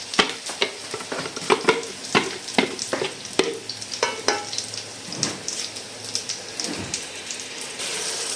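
Ground onion paste sizzles loudly in a hot pan for an egg kofta curry, broken by a rapid, rhythmic series of spatula scrapes and taps that ease off toward the end.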